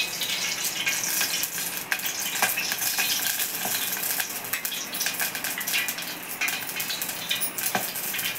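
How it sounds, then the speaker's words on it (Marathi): A phodni of cumin, mustard seed and garlic sizzles in hot oil for amti, a continuous crackling hiss with scattered pops and occasional utensil clinks. "चला तर मी आधी आमटीला फोडणी घालून घेते."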